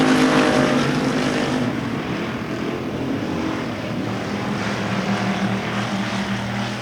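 Factory stock race cars roaring around the Devil's Bowl Speedway track during a heat race, a loud continuous engine drone that swells at the start and then holds steady as the field passes.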